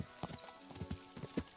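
Horse hooves clip-clop in the medieval game Kingdom Come: Deliverance, a series of quiet, evenly spaced hoofbeats with faint background ambience.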